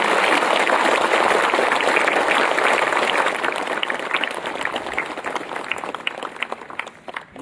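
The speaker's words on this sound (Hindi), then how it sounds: "हम सभी की जोर से तालियां बजाएंगे।" A large congregation applauds loudly at a Catholic diocesan jubilee year opening ceremony in Jashpur, a dense, sustained wash of clapping that gradually thins and softens toward the end.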